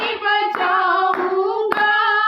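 Hands clap in a steady beat along to a Hindi worship song at a women's ministry church meeting, with a few sharp claps set under loud sustained singing.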